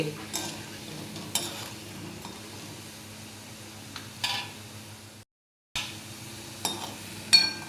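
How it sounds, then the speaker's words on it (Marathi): Gulab jamun frying in oil over a low gas flame give a soft, steady sizzle with a few stirring scrapes and clinks, broken by a brief silent gap. "3-4 मिनटं असे लागतातच आपल्याला स्लो गॅसवरती तळायला. मस्तपैकी असं तळून घेत जाऊ"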